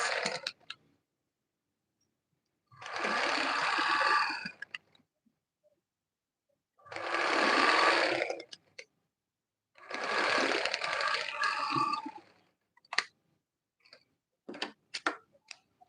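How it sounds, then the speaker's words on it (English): Sewing machine stitching the sides of a smocked sleeve, running in three steady bursts of a few seconds each, separated by silences, with a few sharp clicks at the end. "So I'm going to join the sides with 1 inch of sewing allowance."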